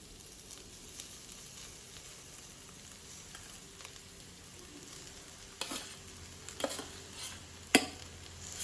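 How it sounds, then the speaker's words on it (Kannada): Cooked rice goes into fried capsicum masala in a pan, giving a quiet sizzle with soft stirring scrapes and a few sharper clinks toward the end. "ಈಗ ಇದಕ್ಕೆ ಮಾಡಿಟ್ಕೊಂಡಿರುವಂತಹ ಅನ್ನವನ್ನು ಸೇರಿಸ್ಕೊಳ್ತಾ ಇದ್ದೀನಿ"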